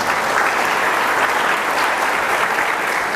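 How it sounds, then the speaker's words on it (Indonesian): Dense, loud applause from a gathered crowd in thanks to God, continuous even clapping filling the whole moment with no voices over it. "Tong tepuk tangan untuk Tuhan."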